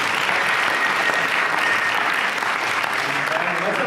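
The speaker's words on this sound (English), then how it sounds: "let's have a round of applause for Dr." An audience claps in sustained, dense applause at a talk event, loud and even throughout with no pauses.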